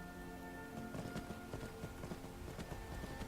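Horse hooves clip-clop in a steady galloping rhythm in Skyrim, the repeated thuds fairly quiet under a constant musical drone and background ambience.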